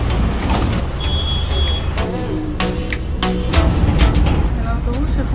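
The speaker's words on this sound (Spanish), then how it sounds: "El autobús se fue volando." A city bus speeds past on a street in the Buenos Aires suburbs of Argentina, with engine rumble, a brief beep, hiss and clattering bursts over steady traffic noise, fairly close.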